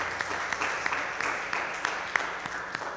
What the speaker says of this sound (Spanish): Vamos a darle un fuerte aplauso a la palabra que hemos proclamado